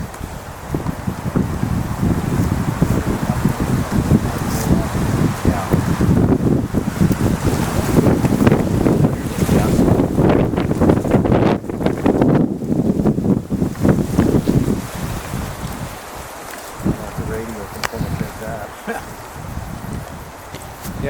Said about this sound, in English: until all this wind kept blowing